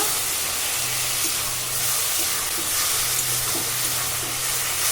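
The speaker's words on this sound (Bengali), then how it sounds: "মশলা খুব ভালো করে কষিয়ে নেব" Ground spice paste with turmeric and salt sizzles steadily in hot oil while being stirred for a thin fish curry with green banana, a continuous close frying hiss with faint stirring scrapes and no talk.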